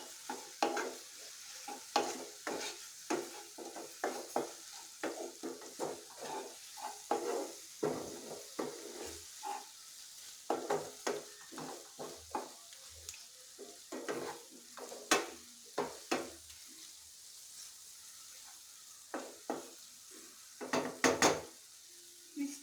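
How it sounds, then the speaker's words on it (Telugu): Coriander powder stirred into food frying in a pan: a continuous light sizzle under frequent irregular spoon scrapes and clinks against the pan, close and fairly quiet, with no talk. "మిక్స్ చేయండి బాగా."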